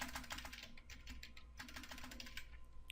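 Quiet, rapid keystrokes on a computer keyboard as a password is typed, an irregular stream of soft clicks continuing steadily for a few seconds with faint background hum and no speech.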